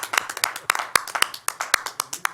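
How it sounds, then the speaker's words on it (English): A small audience at a Detroit police commissioners meeting claps for the newly confirmed police chief, sparse, individual hand claps sounding close and distinct in an uneven rhythm. "We can clap for that one."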